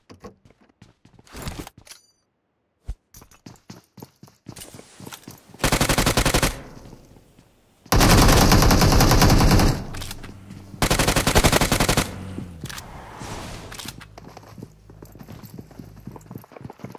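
Automatic gunfire from a PUBG Mobile match bursts out in several loud rapid volleys separated by short gaps, with scattered single shots and game clicks in between.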